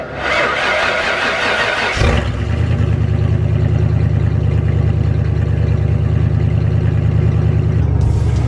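A Ford Bronco pre-runner engine cranks and fires up, then settles into a loud, deep, rumbling idle with throaty exhaust that holds steady for several seconds.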